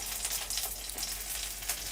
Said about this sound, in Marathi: कढई तापत ठेवलेली आहे त्यामध्ये एक चमचा तेल टाकूया ह्या लसणाच्या पाकळ्या आहेत आपण ह्यात ह्या फोडणीला टाकणार आहे